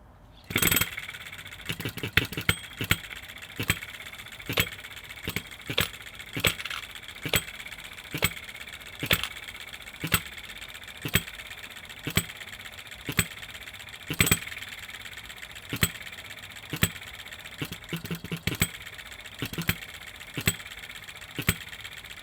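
A model stationary engine cold starts after sitting for days and runs in a sharp, regular rhythm of loud ticking firing beats, with occasional small revs.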